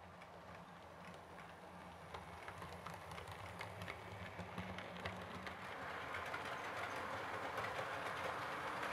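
Heljan Met Bo-Bo electric model locomotive with DCC decoder runs hauling a rake of Eastern Region suburban coaches, giving a soft, continuous motor whir and light rhythmic wheel clicks on track that grow slightly louder.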